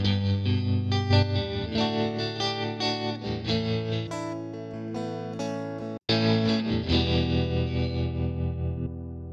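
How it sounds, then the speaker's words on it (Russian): Electric guitar played through amp simulator effects in Logic Pro, with distorted, chorus-tinged chords and notes ringing continuously, one abrupt brief dropout midway, loud and alone without talking. "Вот у меня появился звук гитарный, только уже с применением настроек нашего вот этого усилителя."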